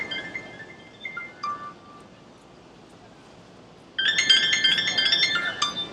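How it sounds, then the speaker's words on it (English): A mobile phone ringtone for a spam call, heard in the East Village, starts with faint scattered tones and then breaks into a bright, loud, trilling ring for the last two seconds over low background noise. "There's that phone again."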